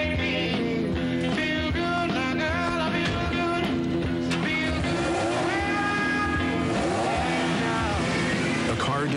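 A Porsche drives in a television advertisement. The engine and road sound runs for several seconds, blended with music and a voice-over.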